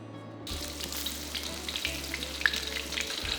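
Fish slices sizzle in a frying pan for stir-fried fish, a steady, fairly close crackle that keeps going throughout with no talk.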